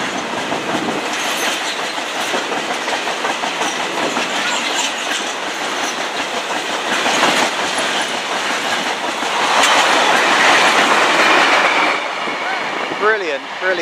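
A Class 70 diesel locomotive hauling a train passes through West Drayton station, a loud, steady rumble with rhythmic clickety-clack of wheels over rail joints, swelling as it goes by and briefly squealing near the end.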